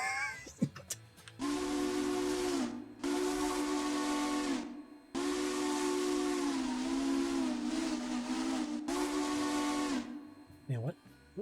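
A steam locomotive's long bell 3-chime whistle in the video game Railroader blows in several long, loud blasts separated by short gaps, with hissing steam and faint clanks between.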